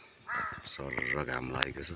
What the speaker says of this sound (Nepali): काग कराइरहेको छ.